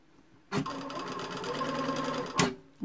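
A sewing machine stitching fabric for a blouse, starting abruptly and running in a steady rapid mechanical whir for about two seconds before stopping, close and loud.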